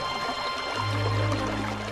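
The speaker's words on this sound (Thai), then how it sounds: "มันเสียงน้ำนี่ใช่แล้วเสียงน้ำไหลมากมายเลย" Water flowing heavily somewhere beneath a rock layer, heard as a steady, fairly loud pouring rush with a deep low hum swelling in partway through, no voices over it.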